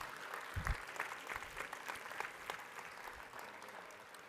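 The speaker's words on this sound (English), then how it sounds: "Let's give everyone a big round of applause." Faint, distant-sounding round of applause fills a large hall at the NAE4-HYDP annual conference general session, steady and even throughout, with a few stray louder thumps.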